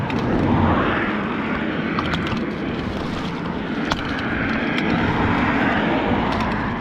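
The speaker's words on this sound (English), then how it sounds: "I can only apologise for the loud traffic in the background" Steady, loud roar of passing traffic, continuous broadband rumble with occasional sharper vehicle noises, no voices.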